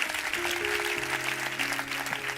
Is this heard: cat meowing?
no